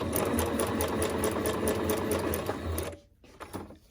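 A sewing machine stitches through paper in a steady fast run that ends abruptly, followed by a brief pause and a few soft handling sounds.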